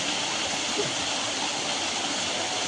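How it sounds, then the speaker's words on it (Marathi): Heavy rushing water of a swollen stream in rural Konkan after torrential rain, a steady, loud, dense roar that stays constant throughout with no break. "सगळं वाळांना पाणी सुटलंय एवढा पाऊस पडलाय"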